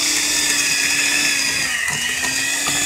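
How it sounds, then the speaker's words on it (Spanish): An electric mixer beats carrot cake batter after oil is added, a steady high motor whine with a sustained hum, running continuously and close without talk. "Y seguimos batiendo."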